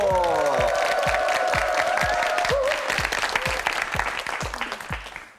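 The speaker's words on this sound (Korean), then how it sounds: "박수 보내주세요" A studio audience at a Korean TV word quiz show breaks into applause, loud dense clapping with a few cheers at the start, gradually thinning toward the end while sharp hand claps stay close and distinct.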